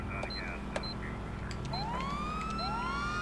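Police car siren in the video game GTA V with the LSPDFR mod, rising wails sweeping upward repeatedly over a steady engine drone, fairly loud and close.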